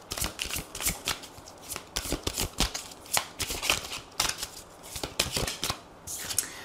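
Tarot cards are shuffled by hand close by in repeated riffling bursts with short pauses between them, crisp and papery, and no one speaks.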